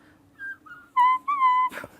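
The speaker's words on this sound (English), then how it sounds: "So he can whistle, we can't whistle." A man whistling a short run of clear, pitched notes, with a few brief tones rising into two longer sustained whistles, close and alone, ending in a breathy burst.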